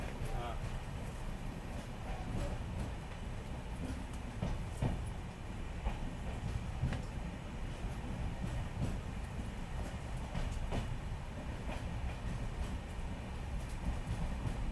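The Panchaganga Express runs with a steady low rumble and faint rhythmic clatter of wheels on rails, heard from inside the train, with a voice talking over it.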